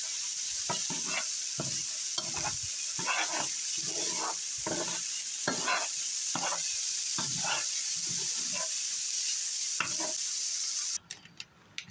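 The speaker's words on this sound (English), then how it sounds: "we're gonna stir that all around really good" Black beans and corn are stirred in a pot with a spoon, giving repeated scraping, swishing strokes in a steady rhythm over a constant sizzling hiss, close and fairly loud, with no talking.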